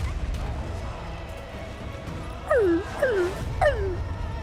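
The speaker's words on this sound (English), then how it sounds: "There's a dog left? What the dog doing?" A dog in the God of War Ascension video game whimpers and yelps in three or four high, falling cries, fairly close, over a low rumbling game backdrop.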